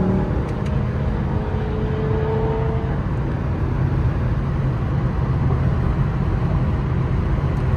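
A Lexus LC500 accelerating under manual paddle-shift control, heard from inside the leather-trimmed cabin: a steady, loud engine drone with a rising tone over the first few seconds, then a continuous broadband roar.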